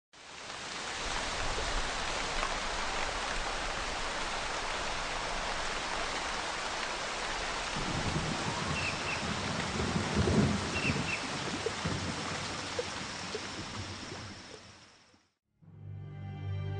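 Steady heavy rain pours throughout with rumbling thunder swelling in the middle, a loud continuous wash that cuts off near the end before a short burst of low rumbling.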